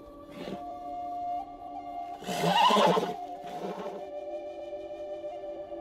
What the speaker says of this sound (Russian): Лошадка еще одна там.